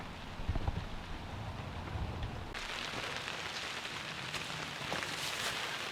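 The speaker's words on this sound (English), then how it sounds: "it's starting to rain again" Steady rain patters down over an outdoor survival camp where water is being collected in a bucket, a broad continuous hiss that grows denser and brighter partway through.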